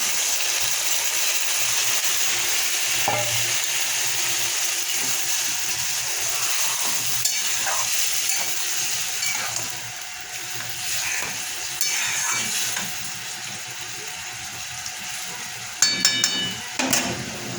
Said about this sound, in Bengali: এরপরে আমি এটার মধ্যে অ্যাড করব ম্যারিনেট করে রাখা মাটন